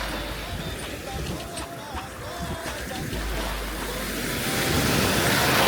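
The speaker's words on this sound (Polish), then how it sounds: "Cudowny przypływ się robi." Incoming tide waves wash ashore on a beach in a steady, close rushing wash that swells louder toward the end, with wind buffeting the microphone.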